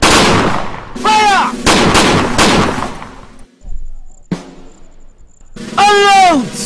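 Loud gunfire from a military firing order, several heavy blasts in quick succession up close, then a quieter lull broken by one sharp crack, and a final powerful burst with whistling, sweeping tones trailing off.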